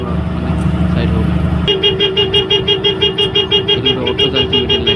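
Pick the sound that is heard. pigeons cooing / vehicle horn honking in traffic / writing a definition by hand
vehicle horn honking in traffic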